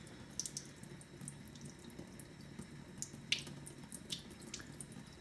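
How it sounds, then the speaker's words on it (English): A kitchen faucet runs at low pressure while a Berkey water filter is rinsed, giving a soft steady stream with scattered drips and splashes and no speech. "You want to push it all the way up against the faucet."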